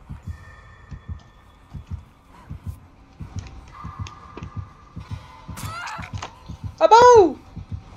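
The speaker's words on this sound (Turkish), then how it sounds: "kalp sesi" Heartbeat sound effect from the video game Dead by Daylight, with soft rhythmic low thumps repeating steadily throughout, plus brief game noises and a rising whine near the end.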